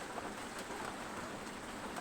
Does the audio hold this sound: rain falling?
yes